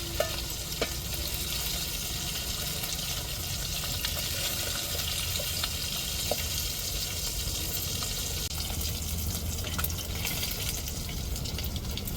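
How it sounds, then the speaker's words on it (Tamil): Crab fish frying in hot oil, a steady dense sizzle with crackles and pops throughout, close and fairly loud with no talking. "இருபுறமும் நல்லா பிறக்கி விட்டால் தான் மீன் நல்லா வேகும் எண்ணெயில்"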